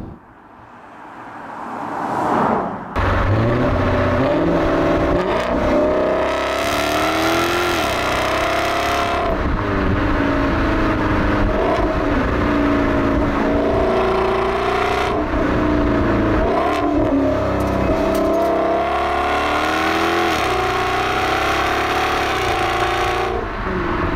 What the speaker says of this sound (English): by ditching the center silencer, you unlock more of that rasp, that hard-edged sound